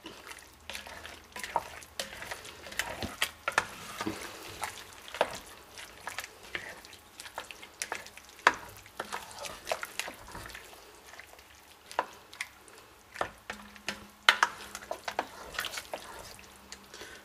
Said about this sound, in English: We'll just stir that through, and that'll wilt with the heat that's in the pot.